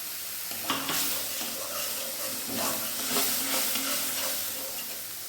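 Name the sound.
stirring spices with a little water in a pan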